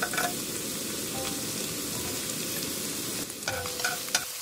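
Shallots, garlic and galangal fry in two tablespoons of hot cooking oil in a pot for hot pot broth, giving a steady close sizzle with a few utensil clinks near the end.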